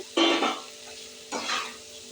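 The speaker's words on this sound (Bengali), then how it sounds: "মশলাটা পুরো কষিয়ে নিয়েছি বন্ধুরা, লাল করে তেল ছেড়ে দিয়েছে। ভাজা মাছগুলো দিয়ে দেবো।" Fried fish pieces dropped into a red spice paste already cooked down until its oil separates, for a Bengali fish curry: two loud bursts of hissing sizzle, each easing into a softer crackle, with no one talking.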